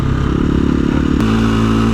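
A 2017 KTM 350 EXC-F dirt bike engine drones loudly and close while being ridden in a sandy wash, its steady buzz shifting pitch as the throttle changes, with no talking.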